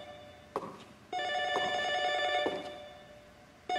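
A telephone rings in the horror video game Ju-On: The Grudge, a loud electronic ring starting after a second and repeating in steady bursts, preceded by a couple of sharp knocks.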